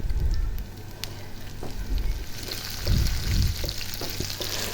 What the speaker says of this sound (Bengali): আদা রসুনটা এখন ইয়ে কষিয়ে নেব তেলের ভিতরে